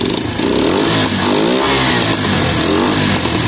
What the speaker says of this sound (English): You can hear it straight away, guys. The revs are much smoother.